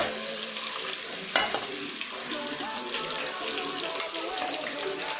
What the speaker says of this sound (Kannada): ಈ ಥರ ಮೊಟ್ಟೆನ ಫ್ರೈ ಮಾಡ್ಕೊಳ್ಳೋದ್ರಿಂದ ಒಡೆಯಲ್ಲ